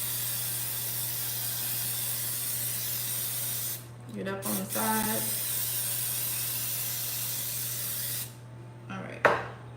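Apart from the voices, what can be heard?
cooking spray spraying a cake pan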